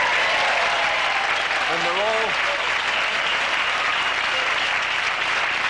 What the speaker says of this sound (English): are, you know, applauding for themselves.